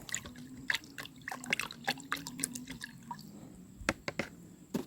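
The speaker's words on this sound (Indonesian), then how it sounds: "Lalu kita siram aja seperti ini" Water is poured onto bonsai planting medium prepared on rice-field land, heard as scattered close drips and splashes with a faint low hum underneath.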